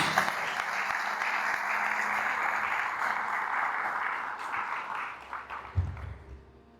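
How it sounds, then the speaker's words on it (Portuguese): A church congregation claps loudly together, a dense, steady wash of applause that carries for several seconds before thinning into scattered claps and dying away. "Aplauda forte ao nosso Deus."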